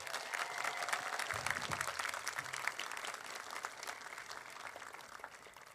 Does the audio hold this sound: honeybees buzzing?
no